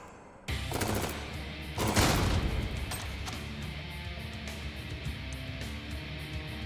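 Gunfire in the video game Jupiter Hell: a sudden loud burst of shots at about half a second, then a heavier blast near two seconds, followed by scattered lighter cracks over a continuing rumble.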